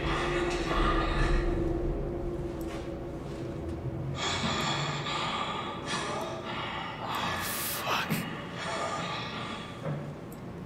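A creature in the video game SOMA wheezes, gasps and coughs in ragged breaths over a low droning hum, with a few harsher bursts near the end.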